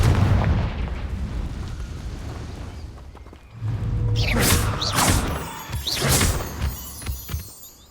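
Confringo blasting spell explosions in Hogwarts Legacy, a series of booming blasts with sharp bursts and crackling decay, loud and close amid rumbling game background.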